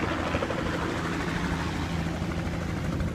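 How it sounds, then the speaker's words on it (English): A helicopter comes in to land beside a car park, its steady rotor and engine roar filling the clip at close range with a constant low, even drone and no breaks. "here comes our helicopter."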